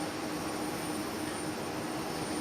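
An aircraft on the runway at Nagasaki Airport gives off a steady, broadband jet-engine roar with a faint high whine, fairly distant and unbroken for the whole stretch.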